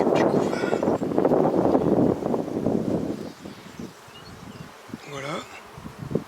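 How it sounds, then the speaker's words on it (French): Honeybees tending a brood frame in a hive make a dense, close buzzing hum that is loud at first, then thins to fainter buzzing. A voice speaks briefly near the end. "On voit les abeilles qui s'occupent du couvain."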